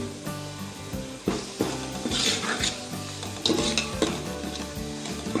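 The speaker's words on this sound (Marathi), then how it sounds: "चला ते अनेकदा आपण पुन्हा असं परतवून घेऊ" Crab curry being stir-fried in a pan, with a spoon scraping and turning the pieces in a steady rhythm over a continuous sizzle, heard close and alone beneath soft background music.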